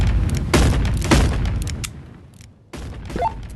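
Gunfire in the VR game Animal Company: a loud burst of several sharp shots in the first two seconds, a brief lull, then more shots, with no talk over them.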